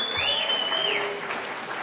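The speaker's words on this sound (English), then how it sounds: "Give yourselves a round of applause." Election night supporters in Virginia Beach applaud themselves in a brief burst of crowd clapping, with a high whistle-like tone sliding through the first second.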